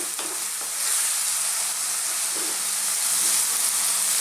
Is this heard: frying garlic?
yes